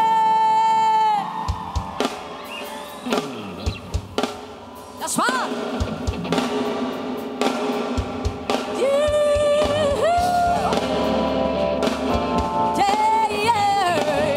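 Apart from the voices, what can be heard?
congregation cheering and making noise for Jesus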